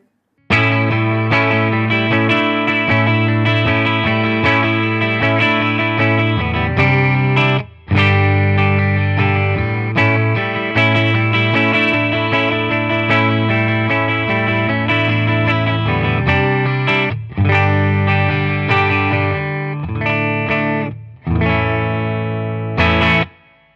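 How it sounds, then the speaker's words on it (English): Electric guitar played through a Boss Katana amp on its clean channel with light reverb, sustained chords ringing out with a few brief pauses between phrases. "this is our clean amp setting. Now with this one, I'm going to stick on a little bit of reverb"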